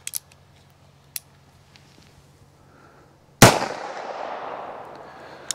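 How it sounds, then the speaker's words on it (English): A single sharp report from a Heritage .22 Magnum revolver with a 2 5/8-inch barrel, heard close and loud after near-silence with a few faint clicks, then a long, gradually fading echo tail. "I'm gonna start out with the Heritage with the 2 5/8-inch barrel. I'm gonna do 3 rounds out of each one of them."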